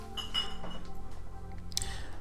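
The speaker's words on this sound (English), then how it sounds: "Poured me a glass of Merlot." A glass of Merlot is poured in a home kitchen, with clinks of glass and light kitchen clatter at close range. Short chiming taps stand out over a steady low background.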